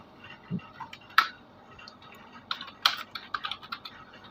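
Fingers type on a computer keyboard into an MS Word document: light, close key clicks in uneven bursts, with a couple of sharper taps and short pauses between runs.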